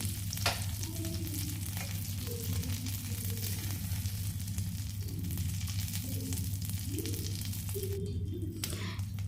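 Hilsa paturi, fish wrapped in banana leaf, fries in a pan with a steady close sizzle and crackle. Occasional scraping and shuffling sounds the parcels being moved, and no one speaks.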